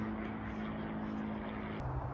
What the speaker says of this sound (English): It's a little plane flying over.